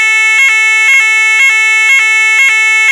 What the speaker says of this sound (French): Ceci est une alarme incendie.